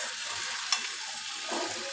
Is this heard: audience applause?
no